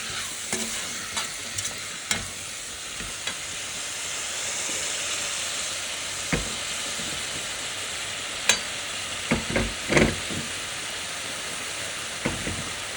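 Vegetables sauté in oil in a pan for a homemade pasta dish, giving a steady close sizzle and hiss with scattered clicks and scrapes of stirring throughout.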